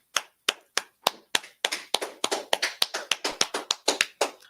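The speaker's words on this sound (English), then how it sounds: "Clap it up" Close hand claps with no talking, starting as slow separate claps and quickening into a steady, brisk rhythm of about twenty sharp claps.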